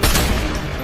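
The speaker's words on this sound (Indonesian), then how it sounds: "baku tembak antara perampok dan tim keamanan Fortico masih berlangsung" Gunfire rattles through a film shootout between robbers and security guards, a loud, close burst of rapid overlapping shots with heavy, booming impacts and no talk.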